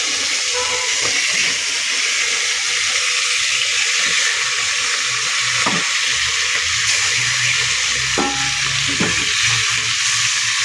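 Pieces of rohu fish frying in oil make a loud, steady, crackling sizzle that runs for about ten seconds, close by, with a few brief clinks and no talking.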